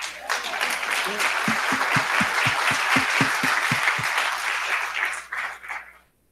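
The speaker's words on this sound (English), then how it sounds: "can we have another round of applause for this choir?" An audience applauds a choir at a Sunday service with steady, dense clapping that swells, holds, and then tapers off to silence, with some voices mixed in.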